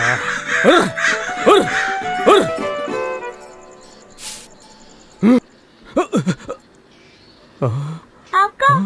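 Several crows caw in a harsh, repeated burst near the start, then fall into scattered single calls with quiet gaps between them.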